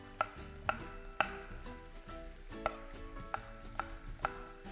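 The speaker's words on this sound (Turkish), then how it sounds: "Onları böyle halka halka ince ince kesiyorum." A knife slices garlic into thin rings on a cutting board, about seven crisp strokes at an uneven pace over soft background music.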